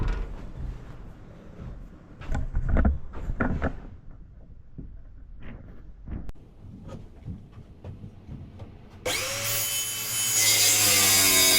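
A saw rasps through wood in short, uneven strokes with pauses between, then a power saw whines loudly near the end.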